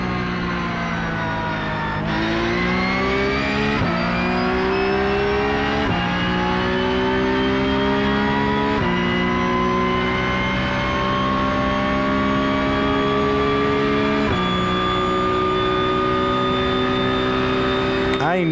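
A Porsche Cup race car in an iRacing video game, lapping the Miami circuit, its engine roaring loud and close as it climbs through the revs, with sharp drops at each upshift, several gear changes in a row at steady full throttle.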